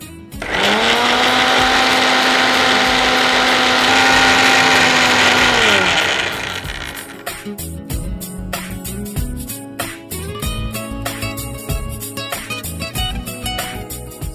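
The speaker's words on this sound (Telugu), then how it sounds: "ఇది మిక్సీ పట్టి మెత్తగా మనం పేస్ట్ రెడీ చేసుకోవాలి." A kitchen mixer grinder whirs loudly at a steady high pitch for several seconds as it blends boiled cauliflower and onion pieces into paste, then spins down, followed by rattling and clattering of the jar.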